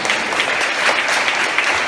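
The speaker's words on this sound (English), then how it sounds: "Y'all hand clap for that." Conference audience clapping for a speaker at an entrepreneurship event, a dense, continuous patter of many hands at moderate distance with no talk over it.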